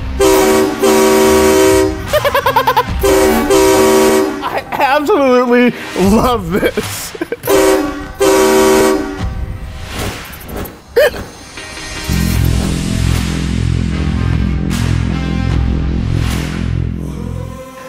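Loud, blaring multi-tone train horn blasts from a Ram 2500 Cummins diesel pickup sound in repeated bursts of varying length, followed by a low rumbling diesel idle, with a person speaking briefly.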